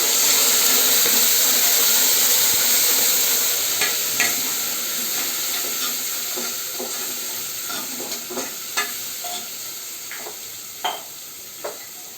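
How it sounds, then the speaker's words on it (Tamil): Green chillies, curry leaves and ginger paste frying in a pan for kara pongal: a loud, continuous sizzle close by, broken by scattered clicks and scrapes of stirring. "நான் பச்சை மிளகாய் போட்டுக்கிறேன் கறிவேப்பிலை போட்டுக்கிறேன் இஞ்சி பேஸ்ட் போட்டுக்கிறேன் நல்லா கலரிக்கலாம்"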